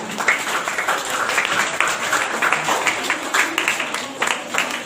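An audience at a school science competition prize-giving claps steadily for a grade 3 student, a dense, continuous patter of many hands at moderate distance.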